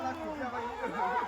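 A crowd at a Harisabha religious gathering fills the air with a steady murmur of many overlapping voices, moderately close and unbroken.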